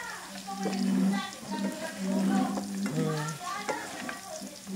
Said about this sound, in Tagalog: Ato pa nang pakupsan yun para dagan ang mantika